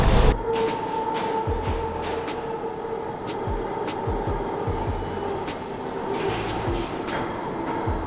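A Jungfrau railway train in the Swiss mountains, heard from on board. A steady rumbling run carries regular rhythmic wheel clicks over the rail joints, with a faint high hum above, and no talking.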